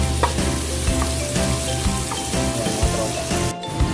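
Pakbet vegetables sautéing in a pan with shrimp paste, a loud, dense, continuous frying sizzle broken by occasional clinks and scrapes of stirring.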